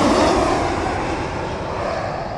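A loud, steady roar of an airliner jet engine close by during landing at Rome Fiumicino, broad and continuous, slowly easing slightly in intensity.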